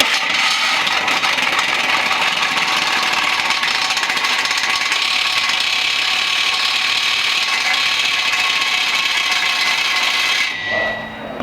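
A power tool cuts through a truck's steel drive shaft on an L5P Duramax, a steady loud grinding whine running nearly continuously for about ten seconds before cutting off abruptly.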